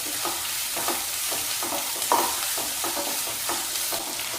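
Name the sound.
onion and carrot frying in a pan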